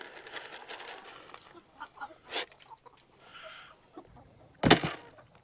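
Laying hens cluck and squawk in short bursts close by during feeding, with scattered rustling and a sharp loud noise near the end.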